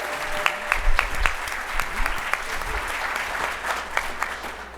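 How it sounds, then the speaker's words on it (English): Applause from a gala audience, a broad steady patter of many hands with a few sharper claps and a cheer standing out near the start, sustained throughout. "can I get a round of applause? Woo!"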